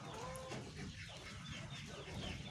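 KUB chickens on a small backyard farm cluck softly in a coop, with faint bird calls and a brief higher note over low background noise, and no talking.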